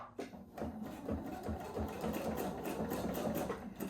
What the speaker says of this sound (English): So we're just going to put it underneath our foot and back stitch.